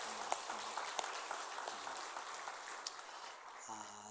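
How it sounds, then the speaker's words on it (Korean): A church congregation of children and adults applauds together during a service, a dense, fairly faint wash of clapping heard from across the hall, with a few louder claps standing out. "우리 사랑하는 마음으로 우리 서로를 위해서 박수 한번 하겠습니다."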